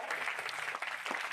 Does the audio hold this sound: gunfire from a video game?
no